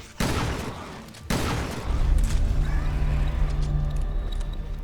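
Shotgun blasts in Resident Evil Revelations 2 Raid Mode: two loud, booming shots about a second apart, followed by rumbling game effects and a sustained low drone.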